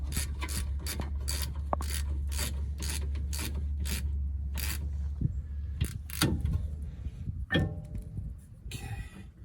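A ratchet clicks in quick, even bursts while tightening brake parts on a Ford F-150, close and clear over a low steady hum, then slower scattered clicks and metal rubbing.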